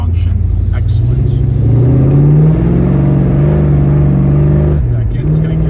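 A 1972 Chevrolet Chevelle engine pulls hard on a slightly wet road, a loud close rumble whose pitch climbs steadily as the car gathers speed, then dips briefly and picks up again.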